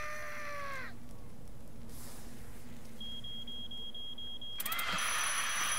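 An alarm rings in the Little Inferno video game as a steady electronic beeping tone that enters partway through and grows loud and bright near the end, after an earlier fading tonal chime, with no talking.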